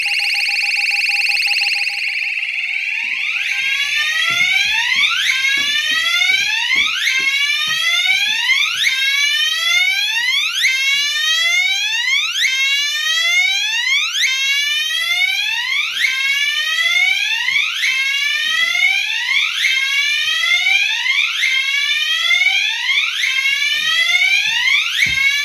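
Home weather alert system alarm sounding during a test: a loud, continuous electronic siren of rapidly repeating downward-sweeping whoops, steady and close for the whole stretch, with no talk.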